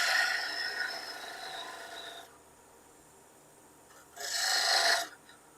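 A thin parting tool cutting a slice into a spinning wooden snowman on a wood lathe, two bursts of close scraping rasp, one long, then a pause and a shorter one.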